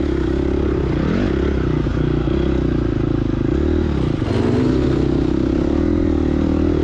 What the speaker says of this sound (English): I just popped the clutch and threw the bike up there.